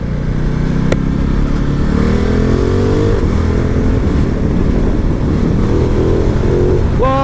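A 2018 Ducati Multistrada 1260S pulls hard on a test ride, its engine revving loudly and continuously through rising gears, with heavy wind rush and a brief electronic beep near the end.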